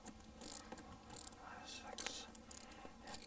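An 8mm socket wrench removes panel fasteners on a 1993–2002 Dodge Viper, giving faint intermittent ratcheting clicks in short bursts, with soft whispery speech beneath.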